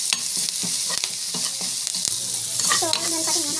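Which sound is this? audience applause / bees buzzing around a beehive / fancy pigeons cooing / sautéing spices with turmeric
sautéing spices with turmeric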